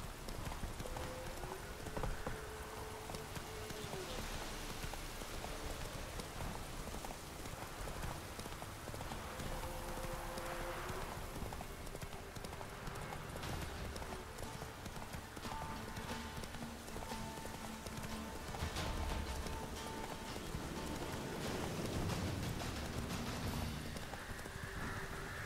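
Steady clip-clop of horse hooves in The Witcher 3 video game, trotting continuously over a rain-like patter, moderately loud throughout with no talking.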